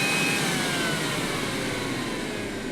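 A Caraco juicer motor runs on its turbo setting, a loud, steady high-pitched whine with a broad whirring hiss that holds constant throughout, no voices.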